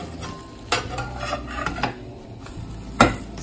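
A spatula scrapes and taps against a frying pan as a chocolate pancake is turned over, with a few sharp metallic clicks over a soft background sizzle, close and fairly quiet.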